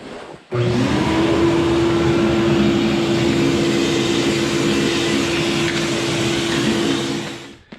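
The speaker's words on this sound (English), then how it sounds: "So I'm gonna get at the vacuum right now and get those out of here." A shop vacuum switches on and runs with a loud, steady whine and a constant hum while cleaning metal filings out of a budget snowblower housing during an impeller kit install, then winds down at the end.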